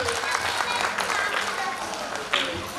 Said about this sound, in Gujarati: એકવાર પુનઃ જોરદાર તાળીઓથી આ ભૂલકાઓને વધાવીએ.